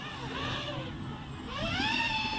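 An HGLRC Sector 5 V2 FPV drone fitted with Azure 5150 propellers flying outdoors, its motors whining and sweeping up and down in pitch as it throttles, rising louder toward the end at a moderate distance.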